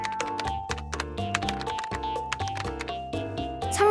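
Someone types a search on a computer keyboard: a fast, irregular run of close, crisp key clicks over a steady tonal background, growing a little denser near the end.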